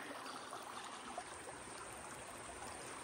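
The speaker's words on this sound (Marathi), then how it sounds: "पाण्याचा आवाज आहे ना" Water flows in a stream at a hidden spot near Gadeshwar, a quiet, constant hiss of running water heard from some distance, with no talking over it.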